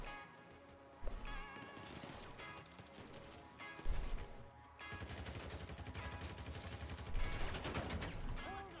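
Machine gun fire in the GTA V Online video game: dense, continuous bursts of automatic gunfire layered over constant game sound, with sharper blasts near the start and middle.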